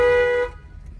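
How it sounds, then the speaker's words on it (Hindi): A single steady car horn blast from a learner's car at a roundabout, loud and close for about half a second before cutting off to quiet engine rumble. "हॉर्न दो एक बार।"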